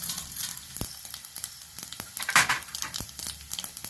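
Chana dal and mustard seeds sizzle in hot oil while tempering for a Telugu munaga aaku podi, crackling with sharp pops and a few louder spits close by.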